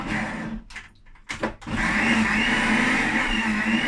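A blender whirs while mixing a raw parsley spread, starting with loud motor noise, briefly stopping and sputtering, then running steadily and strongly, close by and alone.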